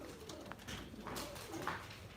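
Pigeons coo softly in a low, rolling rhythm, with rustling and faint background activity around them.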